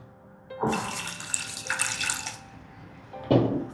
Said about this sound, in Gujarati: હવે થોડુંક આપણે પાણી નાખીએ છીએ